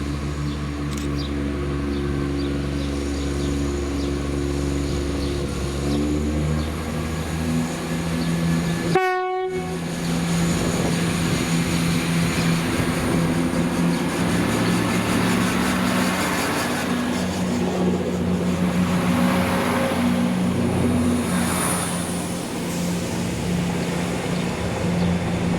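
ScotRail passenger service bound for Edinburgh from Arbroath, hauled past at Monifeith by a locomotive, rumbles by loud and close with a brief sharp horn blast midway, then steady wheel and carriage noise fading out.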